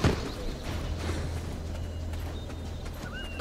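A horse in the online role-playing game Black Desert Online clip-clops along in a steady, fast hoofbeat rhythm, loud and close, with no talk over it.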